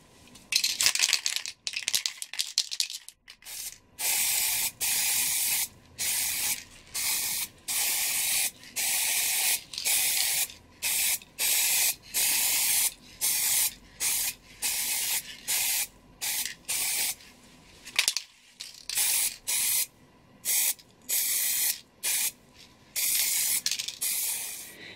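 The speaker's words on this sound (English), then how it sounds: "Now I will spray paint the second one." Repeated hissing bursts from a spray paint can coating farmhouse decor made from trash, many short sprays of one to two seconds each separated by brief pauses, close and steady, with no voices.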